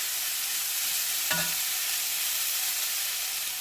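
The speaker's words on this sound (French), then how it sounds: "Donc moi, je les laisse un peu rissoler." Vegetables fry in oil in a pan, giving a steady, close, continuous sizzle with one brief clatter of stirring partway through and no talking.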